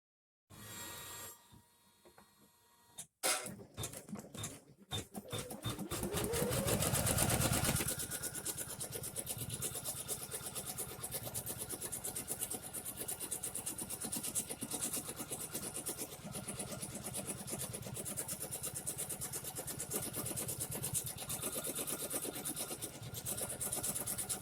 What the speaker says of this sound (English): I'm going to let it run once just to give me a placement stitch.